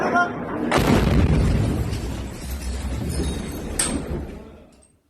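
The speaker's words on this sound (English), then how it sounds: "This is the missile incoming into Dimona." A missile strike on Dimona, caught on a cell phone: a loud, deep boom that swells into a long rumbling roar, with a second sharp crack near the end before it fades out.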